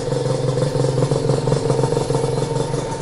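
Freshly restored Honda NSR two-stroke motorcycle engine idling steadily up close, a continuous even rattle and buzz with no talk over it.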